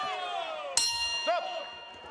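A ringing bell ends a round at a Superkombat kickboxing event in Milan, struck sharply and then again, its bright metallic tone sustaining over a commentator's voice and crowd noise.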